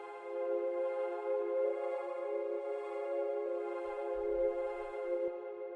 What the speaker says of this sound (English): Let's put some reverb on this one.